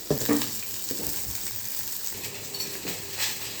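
Chopped onion, green chili and curry leaves fry in tempering oil for upma, giving a soft, steady sizzle with light stirring scrapes and clinks. The sound is fairly quiet and close, with no talking.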